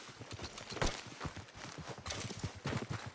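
Hooves clop steadily on hard ground as a horse walks at a moderate pace in the video game Red Dead Redemption 2, with no voices.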